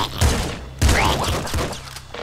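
Shotgun fire in the video game Nuclear Throne, a few heavy booming blasts in quick succession over a short span, close and punchy.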